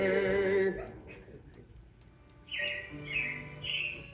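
Animatronic robins chirp in bright, repeated tweets on Disney's Carousel of Progress ride at Walt Disney World's Magic Kingdom, following a fading musical chord amid soft indoor ambience.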